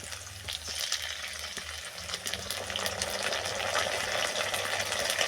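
Ginger-garlic paste, about two spoonfuls, frying with potatoes in a pan in a home kitchen, giving a steady, dense sizzle with occasional stirring scrapes that stays close and fairly loud throughout.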